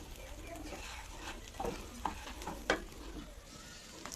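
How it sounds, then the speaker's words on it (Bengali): Spices, including cumin and garam masala powder, are stirred and fried in a pan for chickpea bhuna khichuri. Close, quiet scraping strokes and soft sizzling come with a few sharper clinks of the spoon. "এখন ভালো করে নেড়ে চেড়ে কষিয়ে নিব"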